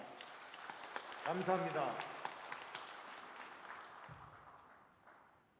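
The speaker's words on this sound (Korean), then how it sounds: "우리 모두 축하와 감사의 박수를 한번 보내주시기 바랍니다." Applause rings out at a Korean independence movement commemoration ceremony in Daegu. The crowd's clapping rises briefly under a speaker's voice, then thins and fades away.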